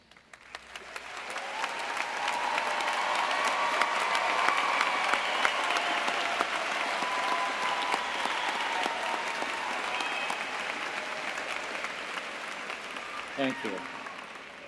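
Sustained audience applause at a Florida State University summer commencement ceremony, clapping for graduating honors students, rising quickly and holding steady for about fourteen seconds, with a brief spoken thanks near the end.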